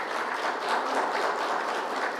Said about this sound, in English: I think it's a big round of applause for the country.